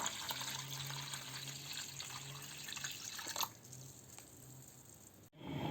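Water is poured into a large kitchen pot lined with a kitchen towel, a faint steady splashing stream that tails off partway through and ends with a soft knock.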